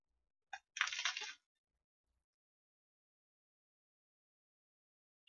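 A crunchy baguette spread with cream cheese is bitten, giving one short crisp snap and then a brief burst of crackly crunching close to the mic, followed by near silence.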